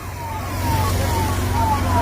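A loud wailing fire engine siren sweeps up and down over a steady engine rumble at a car fire in a parking area in Kotkapura, close by and continuous throughout.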